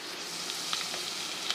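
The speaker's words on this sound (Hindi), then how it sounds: "एक अदद बड़े साइज़ की प्याज है, वो मैंने लेकर उसको तकरीबन आधा कप घी है इसमें मैं फ्राई कर रही हूँ।" One large onion fries in about half a cup of ghee, giving a soft, steady sizzle with faint crackles and small pops; quiet and close, with no voices.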